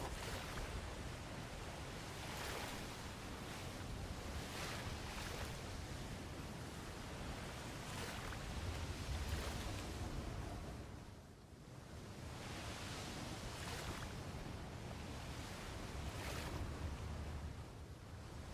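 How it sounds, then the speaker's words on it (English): Ocean waves in a video game wash in a broad, continuous surf roar, rising and falling gently with a brief lull partway through, steady and fairly faint, with no talking. "I'm gonna say that's plenty of waves."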